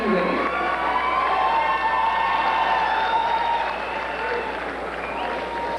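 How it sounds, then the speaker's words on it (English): Audience at a pageant stage event claps and cheers, with scattered whoops and shouts over steady applause that slowly eases, heard from within the crowd. "Ladies and gentlemen and judges, a big round of applause."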